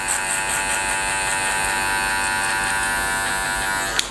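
Electric hair clippers with the blade open buzz continuously and loudly up close while setting a guideline for a skin fade, a steady high-pitched whir with no talking over it.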